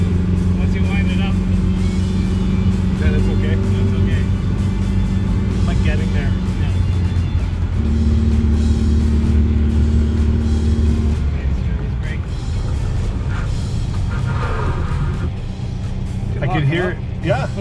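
A pink 1969 VW Beetle being driven for the first time in 14 years, its air-cooled engine droning and shifting pitch as it pulls through gears, steady and close, with people talking over it throughout.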